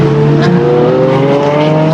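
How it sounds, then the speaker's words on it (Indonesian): Toy race car modelled on McQueen, its motor or engine sound effect running steadily and loudly with rising whining tones for two seconds, no talking. "Selanjutnya di sini ada mobil balap."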